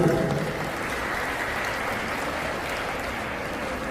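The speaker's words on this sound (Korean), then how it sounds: "축주분들께 큰 박수 부탁드리겠습니다" Guests at a hotel wedding ceremony applaud the musicians who have just performed, a moderate, even patter of many hands clapping at some distance, fairly soft and sustained with no voices on top.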